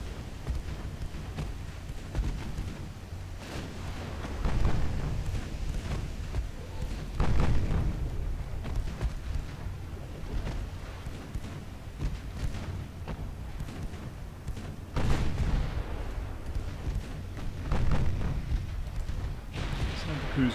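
8-inch cruiser guns firing high-explosive shells in the naval game Ultimate Admiral Dreadnoughts, deep booming salvos recurring every few seconds over a low rumble, with someone talking throughout.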